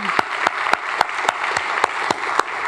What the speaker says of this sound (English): Audience, can we give the candidates a big round of applause?